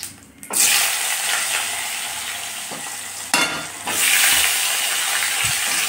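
Potatoes dropped into hot oil, after fish and cumin have fried in it, burst into a loud close sizzle, then a fresh surge of crackling hiss as more go in and stirring follows.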